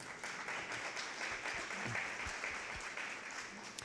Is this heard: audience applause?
yes